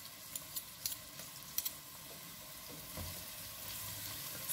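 Pepper paste and tomato paste fry with sucuk in a pan for a bean stew, giving a soft, steady sizzle with a few light scraping clicks from stirring, close and fairly quiet.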